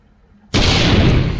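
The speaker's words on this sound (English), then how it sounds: "Let's try a grenade." A grenade blast in a video game bursts in suddenly after a moment of near silence, a loud broadband roar that holds steady and rumbles on without fading.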